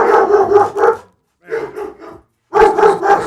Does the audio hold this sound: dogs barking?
yes